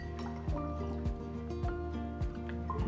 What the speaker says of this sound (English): We'll rinse our brush.